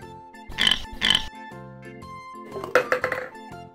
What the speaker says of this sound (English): Purple pig.